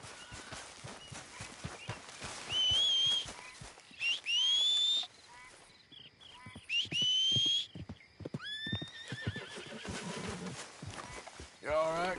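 A horse in the video game Red Dead Redemption 2 neighs loudly several times, with shrill whinnies over quick clip-clopping hooves, while people talk throughout.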